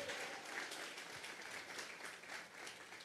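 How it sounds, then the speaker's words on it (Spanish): A church congregation applauds during a Sunday service, steady dense clapping that fills the whole stretch with no pauses and no voices over it. "Vamos a regalarle ofrenda de palmas al Dios de la gloria."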